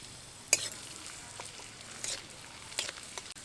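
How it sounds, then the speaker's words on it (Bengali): Raisins fry in ghee in a pan for a village-style Kashmiri pulao, a quiet, soft sizzle broken by a few sharp clinks and stirring scrapes of a utensil against the pan. "কিশমিশ ভেজে নেব"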